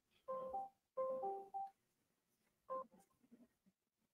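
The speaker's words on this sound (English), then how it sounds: "He's phoning a friend." A telephone is dialed for a call to a friend, with clear repeated keypad tones in short clusters, close and clean with little else around.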